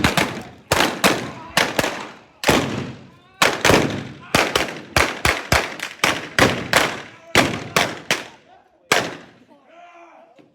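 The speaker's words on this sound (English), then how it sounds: "Blaze away, Frank." Gunfire from a live O.K. Corral gunfight reenactment in Tombstone, Arizona: a rapid string of about fifteen loud sharp shots with echoing tails, irregularly spaced, fading into quieter noise at the end, with shouting heard between some shots.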